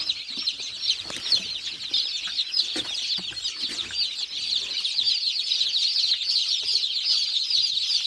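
Newly hatched chicks from a 777 Xazina incubator cheep in a dense, continuous chorus of high, rapid peeps that grows slightly fuller toward the end, close by with no talking.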